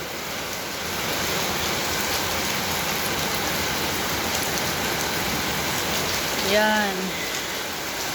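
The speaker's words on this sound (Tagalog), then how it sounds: "Ito talagang ulan na ito." Heavy rain pours down steadily in a dense, even hiss of drops on surfaces, with a brief spoken word near the end.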